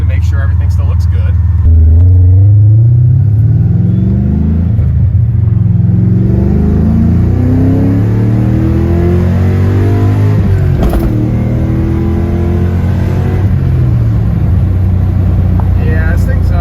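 A rough, ratchety Pontiac GTO revs and pulls while driving on the street, its deep engine note rising through the gears as loud, close rumbling with someone talking over it.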